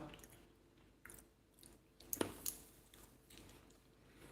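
Pistachio nuts are bitten and chewed close to the mouth, giving soft, wet chewing with a few small cracks and crunches, one sharper crack near the middle, and no talking.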